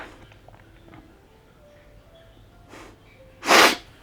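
One sharp, loud sneeze bursts out near the end after a quiet stretch of faint breathing and small room noises.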